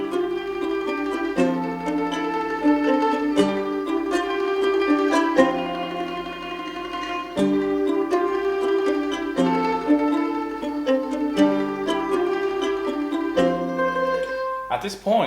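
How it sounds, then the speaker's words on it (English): Rapid tremolo mandolin notes from a Spitfire Audio sample library, shimmering through a flowing melodic passage with shifting chords and a busy, steady level, no voices. "this is the mandolin tremolo from Spitfire's Audio sample,"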